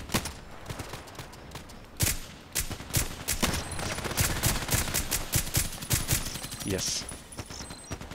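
Gunfire in a shooter video game: a single sharp shot, then bursts of rapid automatic fire that grow denser and louder, with a brief spoken word over the shooting.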